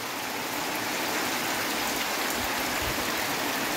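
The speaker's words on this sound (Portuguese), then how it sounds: "escutando as batidas da chuva caindo no telhado" Steady, dense rain drums on a roof of a house in the Brazilian sertão, a continuous close hiss with scattered heavier drops and no voices.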